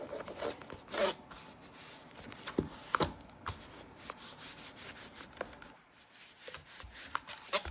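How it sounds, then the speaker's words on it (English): Hand burnishing a closed paper Bible folio with a hinge, quiet scraping and rubbing strokes in irregular bursts, close by with no talk. "we're going to close it and burnish it"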